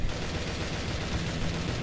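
Dense, continuous gunfire in a zombie-themed FPS mobile game, a loud rapid rattle of overlapping shots filling the whole moment with no talking.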